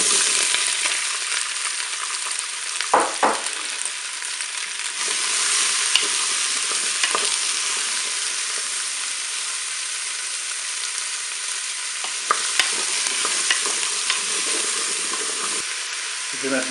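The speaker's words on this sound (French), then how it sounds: "Je vais ajouter les morceaux de courgettes." Courgette pieces fry in a Cookeo electric pot with a dense, even hiss and crackle, broken by a few stirring knocks and scrapes nearby; a voice faintly present in the background.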